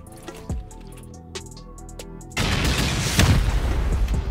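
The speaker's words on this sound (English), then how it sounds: "We'll try to send 16 rockets against here and then immediately follow it with another regular rocket." Rocket blasts hitting a wall during a video game raid: a few isolated booms at first, then a dense, loud, sustained roar of overlapping explosions for the second half.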